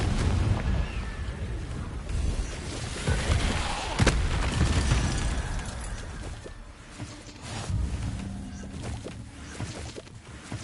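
A Confringo blasting curse goes off in the Hogwarts Legacy video game: one sharp, loud blast stands out near the middle, with rumbling debris and a dense noisy bed around it. No one talks.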